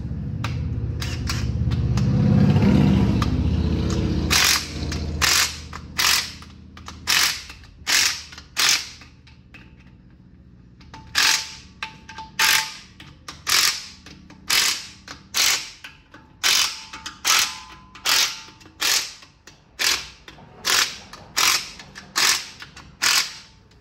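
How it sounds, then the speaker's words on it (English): An impact wrench fires short, sharp bursts while tightening bolts on a GM 3.6L engine during timing chain prep, with a longer run at the start followed by a steady series of close, separate rattling hits. "Now I'm just gonna go with my other impact."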